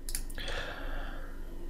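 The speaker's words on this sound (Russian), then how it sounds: "если мы два раза левой кнопкой мыши по нему кликнем" A computer mouse gives a quick pair of faint left-button clicks near the start, then soft background hiss, with no talking.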